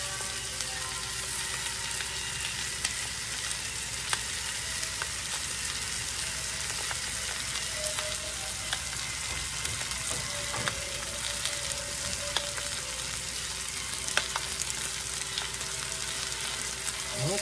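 Okra and potato hash sizzles steadily in a frying pan, a continuous dense crackle with occasional scraping of a utensil as it is stirred, close and moderately loud with no talking.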